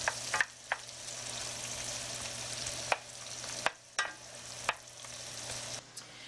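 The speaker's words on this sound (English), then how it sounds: "I'm just going to add my onion, and I want to saute that until it's nice and tender." Onion sautéing in butter and olive oil in a large skillet, a steady soft sizzle running throughout with a few sharp clicks and scrapes of stirring, fairly quiet and with no talking.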